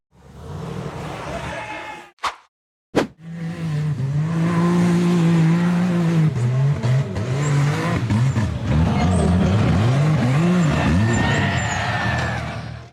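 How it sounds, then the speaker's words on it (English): A blue off-road buggy engine revs hard and loud as it accelerates up a steep, rocky dirt slope, with a brief cutout before the sustained roar resumes and continues to the end. "The blue buggy accelerated hard and charged straight up the steep, rocky dirt slope"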